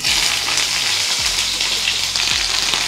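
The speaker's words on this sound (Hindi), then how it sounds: "इसको एकदम लाल फ्राई कर लेंगे।" Jackfruit pieces frying in hot cooking oil in a kadhai, a loud, continuous close-up sizzle with dense crackling throughout.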